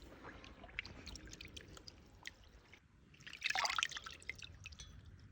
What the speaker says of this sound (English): Dunk it in the water.